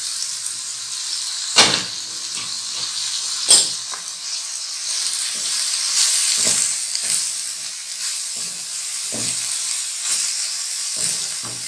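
Beans for keema fry in a pan with a loud, steady hiss and sizzle, punctuated by a few sharp knocks and scrapes of stirring, close by.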